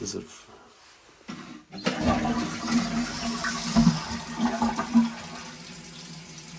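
A basement toilet with a sink on top flushes with a gurgling rush of water, then hisses and trickles steadily as the tank refills, with brief knocks and a voice speaking over it.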